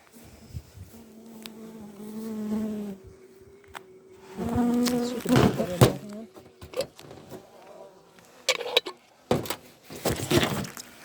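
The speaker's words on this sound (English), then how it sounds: "It's all wasps and an odd fly." Wasps and a fly buzz inside a wasp trap, a close, wavering drone that rises and falls in bursts with occasional taps and rustles against the trap.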